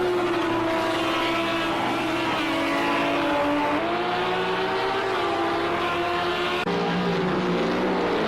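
GT3 race cars, including the number 6 Audi, roar through a sim racing game, with a loud, continuous engine drone whose pitch rises and falls across gear changes and never stops.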